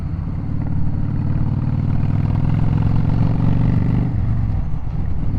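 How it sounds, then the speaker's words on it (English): A loud Yamaha V Star motorcycle fitted with Vance and Hines Short Shots exhaust rumbles steadily and close up, a deep throbbing engine note that holds constant before dipping slightly near the end. "This is quite a loud motorcycle"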